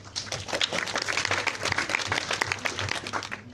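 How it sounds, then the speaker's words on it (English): An audience at a mentor training event breaks into applause, a dense, steady clatter of many hands clapping up close for a few seconds. "A round of applause, please."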